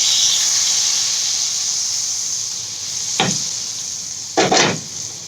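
Pork simmering slowly in a sweet and sharp sauce over lowered heat gives off a steady soft hiss, broken by a couple of brief clinks or stirring bumps near the end; no talking.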